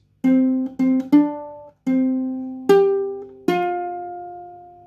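A short ukulele melody from "Happy Birthday" of plucked single notes, several repeated then rising, each ringing clearly and fading, played alone with no talk.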